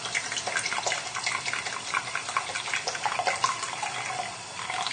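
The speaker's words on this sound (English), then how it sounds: "I just need to add in 150 millilitres of pineapple juice to the measuring jug with the tomato ketchup." Pineapple juice is poured into a measuring jug holding tomato ketchup, making a steady, close splashing trickle of liquid that runs continuously for several seconds.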